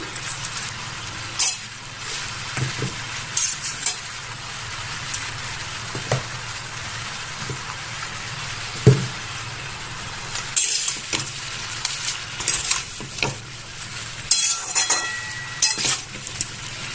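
Salted cabbage stirred in a hot pan with no oil, giving a steady low sizzle broken by scattered scraping and clatter from mixing, close and moderately loud with no talk.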